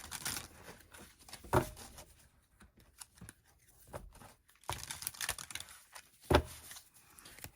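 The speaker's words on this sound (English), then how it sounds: "All right, let's go ahead and shuffle again." Tarot cards are shuffled in quiet, irregular bursts of crisp riffling and soft slaps, close and faint with pauses between handlings.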